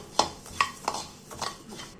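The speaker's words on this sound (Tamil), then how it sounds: "இது இரும்பு கடாய் என்றதுனால சட்டுன்னு இது வந்து வறுபட்டுடும்" Coriander seeds dry-roasting in an iron kadai, with a spoon scraping and clinking against the metal in several quick, separate strokes. The sound is close and fairly soft, and no one speaks.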